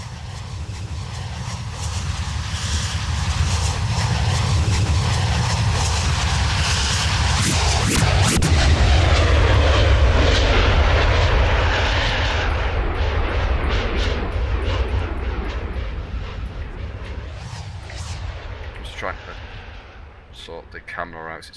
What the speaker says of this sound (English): And the plane's come back into land again.